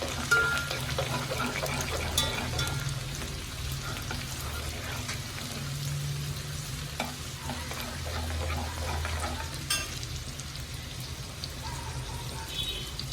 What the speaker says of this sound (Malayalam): ഇനി വെളുത്തുള്ളി ഇട്ട് കൊടുക്കാം.